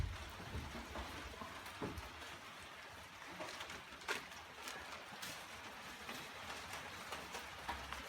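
Steady rain drums on a tent at a trail campsite during a foggy, thundery storm, a dense continuous patter with a few louder drops, close and moderately loud, with no talking.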